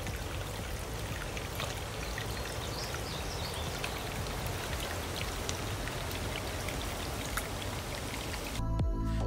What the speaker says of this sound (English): We continued our hike on Wash Pond Trail and enjoyed the small streams and sounds of nature.